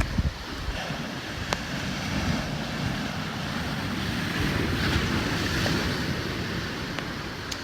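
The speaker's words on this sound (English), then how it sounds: "these waves are that high" Storm-surge waves from Hurricane Dorian crashing onto King and Prince Beach on St. Simons Island, Georgia: a loud, continuous roar of surf with heavy wind buffeting the microphone and occasional sharper splashes.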